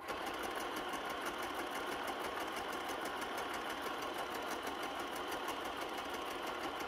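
A sewing machine runs steadily for several seconds with a fast, even mechanical whir, stitching fabric at low to moderate volume. No voice is heard over it.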